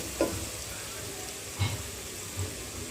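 Spices and vegetable khichuri ingredients fry in hot oil with a low, steady sizzle, broken by a few soft stirring knocks and scrapes.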